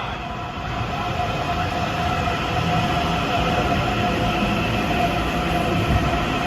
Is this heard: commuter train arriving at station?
yes